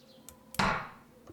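A single sharp hammer strike in the train game Derail Valley, preceded by a couple of light taps, ringing briefly before fading, close and alone.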